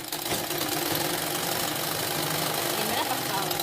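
A sewing machine runs steadily while stitching a blouse seam with repeated passes to reinforce it, a continuous whirring motor rumble with a rapid mechanical needle rhythm, close and fairly loud throughout.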